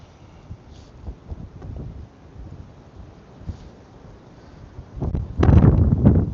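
Low rumbling wind buffets the microphone in gusts, building to a heavy, loud blast near the end.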